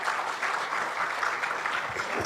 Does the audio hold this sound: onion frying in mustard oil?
no